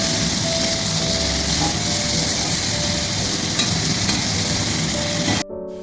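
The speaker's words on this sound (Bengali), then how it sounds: "চিংড়ি মাছটা আমার ভাজা হয়ে গেছে" Prawns fry in a wok of hot oil with a loud, dense, continuous sizzle and hiss close by. It cuts off abruptly just before the end, and no one speaks.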